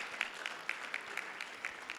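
Audience at an elders' strategic meeting clapping: faint, evenly spaced claps keep a steady rhythm throughout, with no voices.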